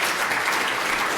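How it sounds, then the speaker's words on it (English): Loud, dense applause from an audience thanking a panel at a health and medicine AI conference, a brief continuous burst of many hands clapping. "Round of applause."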